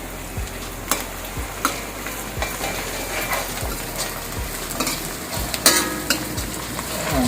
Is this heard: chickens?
no